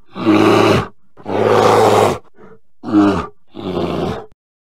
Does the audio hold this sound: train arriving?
no